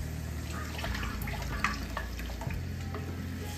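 Whisked curd being stirred into boiling water in a pot for kadhi, a continuous soft swishing and bubbling with a few light clinks of the spoon, close and steady.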